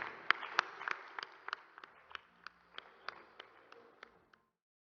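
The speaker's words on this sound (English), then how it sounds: "Let's have a round of applause," At an accounting conference, a small group gives a sparse, quiet round of handclaps: a dozen or so distinct claps in an uneven rhythm that thin out and stop after about four seconds, leaving silence.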